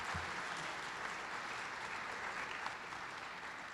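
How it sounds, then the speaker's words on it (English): Steady, dense applause from an audience at a convocation ceremony, honouring students, sustained evenly throughout at moderate distance with no talking over it. "let's give a round of applause for these students when I call out your name"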